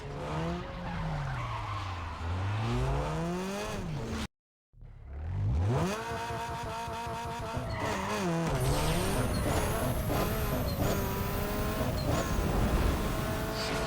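A Peugeot 206 2.0L I4 in Need For Speed Underground 2 drag racing: the engine revs and climbs through gear shifts, with tire squeal and a brief dropout before a steady high-pitched acceleration run.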